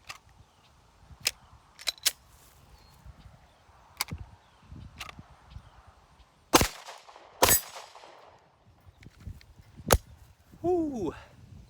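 A Glock 17 Gen 1 police trade-in pistol fires several sharp, loud single gunshots at irregular intervals outdoors, each with a short echo tail, followed by a voice at the end.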